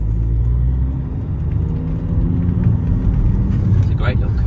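A 2014 Audi A3 1.6 TDI SE convertible with about 68,700 miles drives along a road, a steady low engine and road rumble heard from inside the car as someone talks over it.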